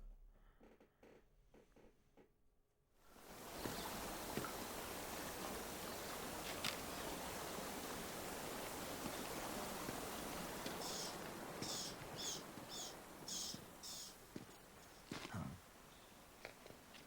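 Waterfall in the stealth video game Metal Gear Solid 3: after a quiet start, a loud, dense rush of falling water comes in abruptly and holds steady, with faint clicks and rustles on top near the end.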